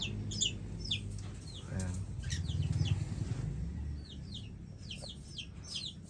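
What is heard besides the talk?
small and medium pet parrots in a cage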